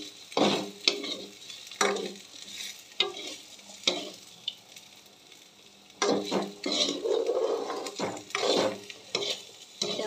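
Ivy gourd curry is stirred in a pan, with bursts of scraping and sizzling alternating with quieter pauses, close by and without speech.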